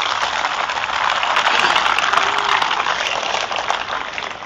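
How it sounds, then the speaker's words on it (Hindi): A large audience claps loudly and steadily, welcoming a speaker's wife onto the stage at an event in Bhubaneswar; dense sustained applause fills the whole stretch with no talk over it. "मेरी क्राउन फरजाना को जोरदार तालियों से वेलकम करो"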